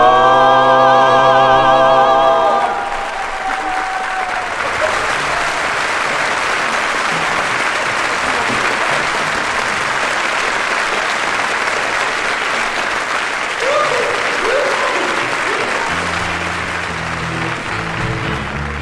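Concert audience at the Paris Olympia in 1975 breaking into loud, sustained applause for a singer, a dense wash of clapping that follows the last sung notes and carries on steadily, with a voice beginning to speak over it near the end.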